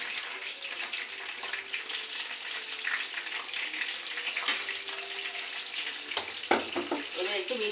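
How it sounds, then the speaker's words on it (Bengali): Rolls sizzle steadily as they fry in a pan, a continuous crackling hiss with a few clinks and light stirring near the end, and no talking. "তো বন্ধুরা এইগুলো এইভাবে ভাজি করে নেবো"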